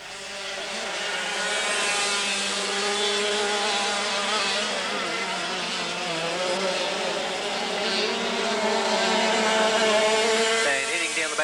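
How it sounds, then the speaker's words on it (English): Dirt kart racing engines at a 1996 race, a continuous loud buzzing whine of several small engines rising and falling as the karts pass, with a race commentator talking over them. "Liza Perrott in cart number 71"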